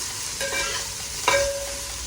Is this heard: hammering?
no